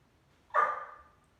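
A single short dog bark at home, sharp and fairly close, fading quickly into quiet.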